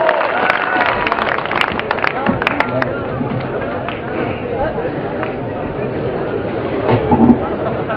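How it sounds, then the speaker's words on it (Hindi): A large audience at a Hindi poetry gathering in Depalpur, Madhya Pradesh claps steadily, a dense and loud roar of applause mixed with crowd noise and a voice over it throughout. "इसलिए हाथ उठा करके अपने दोनों ताली बजा करके जानी बैरागी का आह्वान करो"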